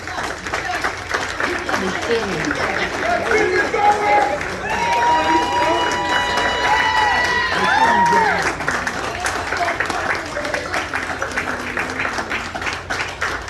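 Pro wrestling hall of fame event crowd cheering and clapping in a steady, loud wash of noise, with whistles and shouting voices rising above it throughout.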